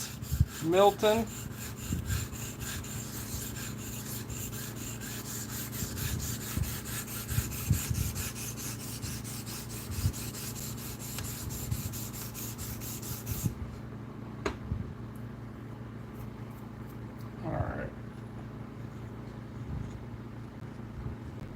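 A knife blade scraping on a TS Prof guided sharpening system: steady rhythmic rasping strokes up close for most of the stretch, then sparse scrapes after a sudden drop in background hiss.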